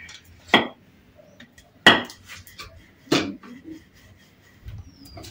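Wooden rolling pin pressing bread dough flat for sausage rolls, three distinct rolling strokes a few seconds apart with soft knocks and scrapes between, close and fairly quiet, no talking.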